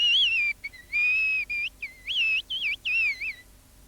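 Melodic human whistling from a village whistler in the Pyrenees, a single clear tune in several phrases with short pauses between them, close and fairly loud over a quiet background.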